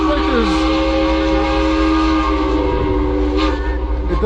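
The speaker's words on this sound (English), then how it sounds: "that one has a rather loud air horn" A ship's loud air horn sounds close by in port at Rotterdam, a sustained multi-tone blast holding through the whole clip over low engine rumble.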